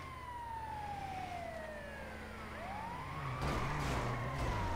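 Ambulance siren in GTA V, a wailing tone that sweeps downward and then rises again, close and steady, with vehicle noise underneath and bursts of impact sounds near the end.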